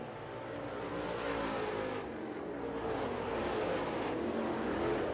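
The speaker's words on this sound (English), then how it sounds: "Driving a Rick Hickson Masters-built race car." A Rick Hickson Masters-built late model race car roars around the track at Smoky Mountain Speedway, its engine a loud continuous drone with slight rising and falling surges as it runs, no talk over it.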